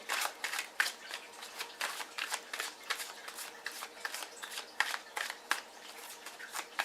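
A deck of tarot cards is shuffled by hand in a quiet room, giving repeated crisp riffling bursts at a brisk, slightly uneven rhythm, close and soft, with no speech.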